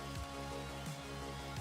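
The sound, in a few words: rain falling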